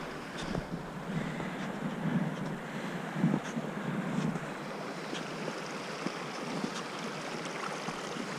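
Water running beneath an ice bridge on a mountain hike, a soft, steady rushing with some wind buffeting, faint and continuous with no talk.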